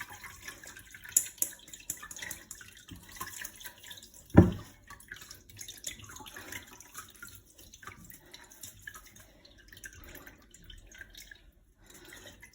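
Tap water runs faintly into a sink while ginger pulp is rinsed to press out its juice, a soft continuous trickle with scattered drips and one sharp knock partway through.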